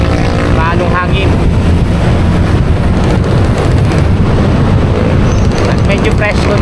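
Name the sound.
wind at sea on a boat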